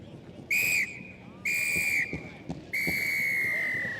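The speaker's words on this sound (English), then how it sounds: "Final whistle goes." Three shrill blasts of a referee's whistle end a schools rugby sevens match. The first two are short and the last is long, sounding over crowd and field noise in an open setting.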